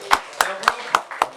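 A small group claps in a live show setting at the Peppermint Club in LA, five or six separate sharp claps at a steady rhythm, close and fairly loud.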